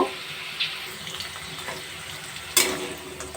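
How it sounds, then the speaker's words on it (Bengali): Elephant foot yam pieces fry in oil in a kadai with a soft, continuous sizzle. A few brief pops and clinks stand out, one sharper crackle near the end. "ওল কচুগুলো ভালো করে ভেজে নেব"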